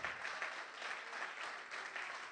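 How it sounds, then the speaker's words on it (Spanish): A church congregation applauds during a sermon, with dense, steady clapping that stays loud and even for the whole stretch, without a break. "Dale un aplauso a Él."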